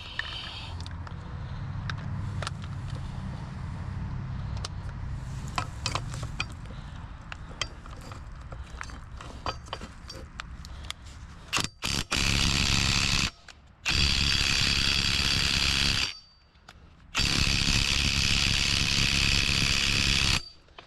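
An impact wrench fires in three long, loud rattling bursts separated by short pauses at a stuck fastener on the rear brakes of a 2005 GMC Envoy, following a stretch of quieter mechanical clatter.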